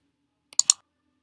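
A few quick mouse clicks, two sharp ones close together after a faint first tap, near and isolated against silence while working in PowerPoint.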